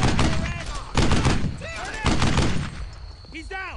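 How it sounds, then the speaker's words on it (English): Bursts of automatic and single-shot gunfire from a World War II squad shooter, loud and close, coming in repeated volleys with faint squad chatter and background battle noise between them. "someone's shooting something."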